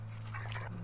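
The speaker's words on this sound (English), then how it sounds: "Bad dog!" A dog in a survival video game barks and whimpers briefly near a wolf's lair, a short burst of yelps over a steady low game hum.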